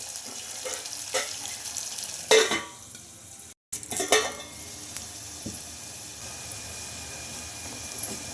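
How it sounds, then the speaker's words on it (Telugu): Onions softening in a pan with a splash of water for South Indian sambar, a steady soft sizzle with occasional stirring scrapes and clatters, close and fairly loud, with no talking. "ఈ ఆనియన్స్ అయితే బాగా మగ్గాలి కొద్దిగా నీట్ అయితే ముచ్చుకుంటున్నానండి త్వరగా మగ్గాలి"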